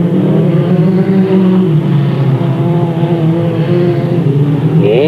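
Race cars at Delta Speedway sweep off turn 4 toward the checkered flag, a loud, steady engine drone with layered harmonics that climbs in pitch at the end as the pack accelerates.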